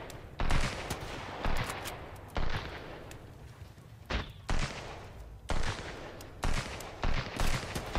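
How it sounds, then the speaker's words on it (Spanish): Gunfire in the survival video game Sunkenland comes as a run of sharp, booming shots at irregular intervals, some fairly close and some more distant, over a muffled ambient background. "Estoy escuchando disparos."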